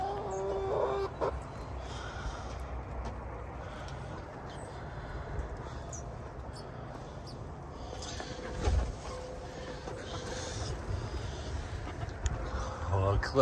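Farm chicken flock heard on a wet morning, with soft clucking and fowl calls scattered through steady outdoor background noise, while a person talks over it.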